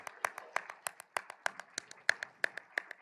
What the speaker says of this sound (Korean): 영광의 박수 돌리겠습니다